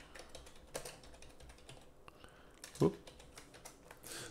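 Someone types on a computer keyboard, producing faint, scattered key clicks at an uneven pace with one sharper tap midway, heard up close at low volume.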